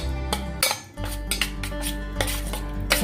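A spoon clinks and scrapes against a bowl while chicken reshmi kebab marinade is mixed, with repeated close metallic taps over a low steady hum, no voices.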